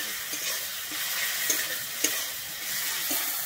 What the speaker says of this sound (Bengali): আমি টমেটো দিয়ে খুব ভালোভাবে এখানে কিন্তু আমি মিশিয়ে নিচ্ছি।